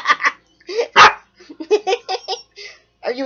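A dog barks and yips in short bursts at close range, mixed with a person's playful talk and commands during a roll-over game.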